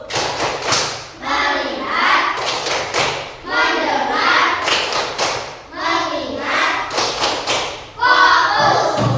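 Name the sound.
hand clapping, classroom clap game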